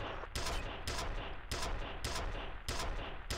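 Bursts of rapid gunfire from the shooter game F.E.A.R., three loud volleys in a regular rhythm with brief gaps between them, dense and close.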